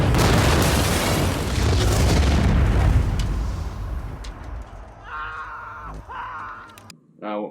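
A white phosphorus round bursts in the war film Fury, a loud rumbling boom that fills the first few seconds and then slowly fades, followed by faint shouting voices near the end.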